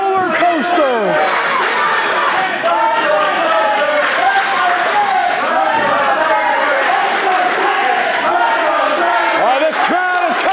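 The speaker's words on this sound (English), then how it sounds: "This crowd is coming alive!" A wrestling crowd roars and chants loudly during a CWF Mid-Atlantic title fight between Cedric Alexander and Chet Sterling, dense overlapping shouting and cheering that swells continuously, with scattered claps.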